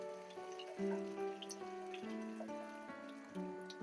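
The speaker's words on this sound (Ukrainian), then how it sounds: "Я закипятила воду," Boiled water pours steadily into a pot of cooking food, a continuous splashing gurgle with a ringing metallic tone, close by and fairly quiet.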